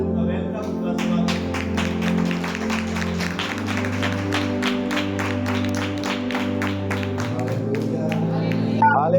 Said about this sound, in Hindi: मैं चाहूंगा जब वो मंच पे आएंगे हम सभी ताली बजाकर उनका वेलकम, उनका स्वागत।